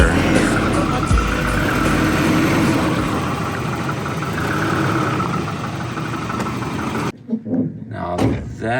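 A Volvo XC90 V8 SUV engine idles with a steady, rough rumble for several seconds, then cuts off and a person starts talking.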